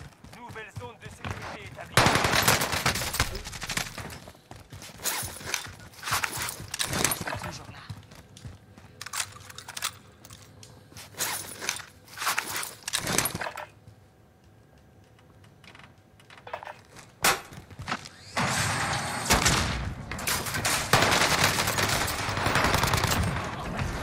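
Rapid bursts of gunfire from a first-person shooter video game come in a rapid, irregular series, mixed with keyboard clatter and a voice talking over the action.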